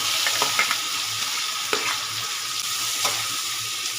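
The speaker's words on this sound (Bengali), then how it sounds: "এবারে দিয়ে দেবো এর মধ্যে পেঁয়াজ কুচি" Chopped onion and tomato fry in a pan for a banana-flower and hilsa-head dish, with a steady, close sizzle broken by a few stirring scrapes.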